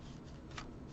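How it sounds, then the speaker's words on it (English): A deck of tarot cards shuffled by hand, soft papery riffles with a couple of brighter bursts as the cards slide together, close and quiet. "This is another way that you can shuffle."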